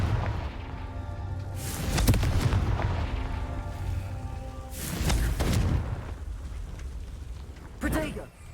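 Confringo explosive spell blasts in Hogwarts Legacy, a few loud booming bursts around two and five seconds with a smaller one near the end, over game ambience and a speaking voice.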